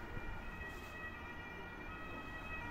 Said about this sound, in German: Da, Krankenwagen.